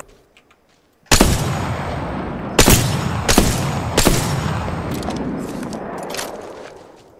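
Video game gunfire cracks out in four sharp, loud bursts after a second of quiet, each followed by a long rumbling echo that fades slowly.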